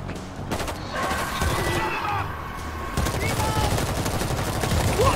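Rapid bursts of gunfire in the World War Z video game rattle fairly close, with steady overlapping shots under players talking to each other.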